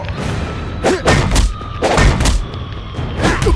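Weapon hits in the Shadow Fight 3 fighting video game land as a quick series of dull thuds and booming impacts, several strikes spaced irregularly over a few seconds with swishing sweeps between them.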